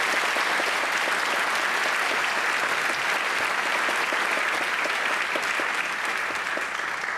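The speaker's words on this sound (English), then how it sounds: "Can we please give them a round of applause?" Audience applause at a scholarship ceremony, a loud, dense and sustained round of clapping from a large crowd that stays level from start to finish without any talking.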